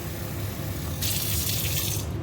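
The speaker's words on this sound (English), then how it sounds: "I just fill the jar with hot water" Hot water from a kitchen tap pours into a glass canning jar while preparing candied jalapeños, a steady hiss of filling water over a low background hum, starting abruptly and running about a second alone.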